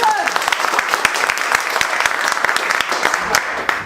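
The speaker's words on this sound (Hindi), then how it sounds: "एक बार जोरदार ताली बजाओ" A classroom of students clapping loudly for a mobile repair lesson, a steady, close burst of dense applause that keeps going for the whole stretch.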